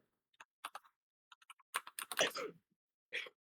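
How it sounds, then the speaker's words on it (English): Typing on a computer keyboard comes through as sparse, quiet key clicks, a few isolated taps followed by a quicker burst of strokes and one final tap, heard alone in a quiet room. "Let me just try typing his fucking name."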